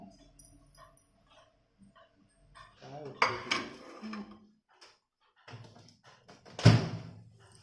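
Pizza set down on a ghee-greased oven tray, heard as a few light metallic clatters and knocks against a quiet kitchen background, with one sharper clank near the end.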